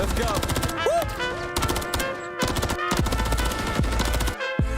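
Rapid bursts of AK rifle gunfire in a Call of Duty League match, several loud automatic volleys separated by brief pauses, with game effects and music in the mix.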